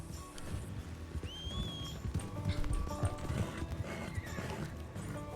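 Horses galloping in the Red Dead Redemption (RedM) video game, steady clip-clop hoofbeats with a whinny, loud and close, while voices talk briefly.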